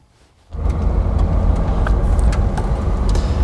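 A 1964 Mercedes 230 SL Pagoda drives along after a quiet start, its engine and road noise rising suddenly and holding as a steady, loud interior rumble.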